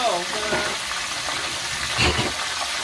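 Seafood laid into hot oil, frying with a continuous loud sizzle and bubbling, no talk.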